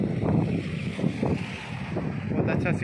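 Strong wind blows through the streets of Al Khor city, Qatar, buffeting the microphone in uneven rumbling gusts, with faint, muffled voices underneath.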